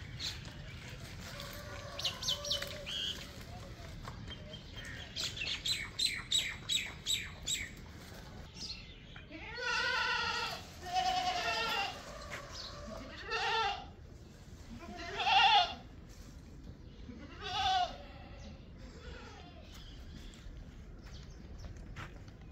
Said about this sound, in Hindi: बेरी की जो पत्ते हैं वो बकरियां बड़े शौक़ से खाती हैं।